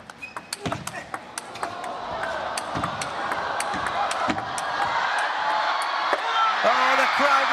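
Arena crowd at a Singapore Smash 2023 men's singles table tennis final between Fan Zhendong and Ma Long, with sharp ball and paddle knocks early, then swelling into sustained loud cheering and applause.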